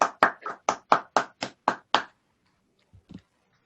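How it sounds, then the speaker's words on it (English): A handful of people clap over a Zoom call, about nine sharp, evenly spaced claps close to the microphone, followed by a short quiet gap and a faint low sound. "you can still hear the claps, Antonio"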